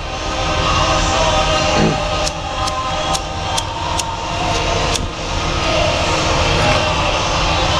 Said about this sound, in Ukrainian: Я паяю резаком.